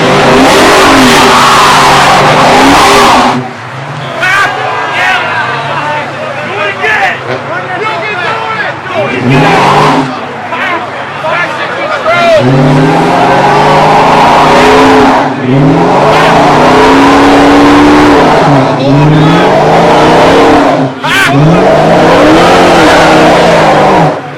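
A Mustang GT revs hard during a burnout at an Imperial burnout event, with loud surging engine bursts and rising, falling pitch sweeps amid a crowd's babble and nearby voices.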